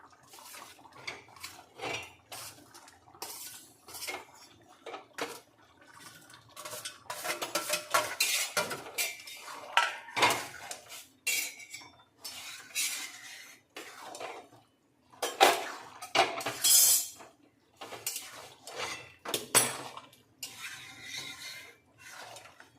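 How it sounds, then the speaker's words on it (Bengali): A metal spoon stirs fried soybeans through bubbling curry sauce in a pan, clinking and scraping against the metal in close, irregular bursts with no one talking. "নাড়াচাড়া করবো।"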